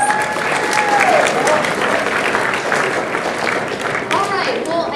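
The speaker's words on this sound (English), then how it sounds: "definitely deserves a round of applause" Loud, sustained audience applause at a Southern California Winter Congress convention, a dense wash of many people clapping with some cheering and whoops rising over it, close and continuous throughout.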